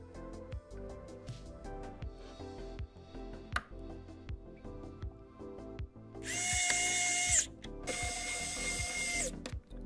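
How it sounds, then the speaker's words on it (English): A ratcheting screwdriver clicks in a steady run of pawl ticks while parts are installed in a retro gaming PC, followed by two longer bursts of a whirring mechanism, close and clear with no talk. "Oh my God, I'm in love with this screwdriver."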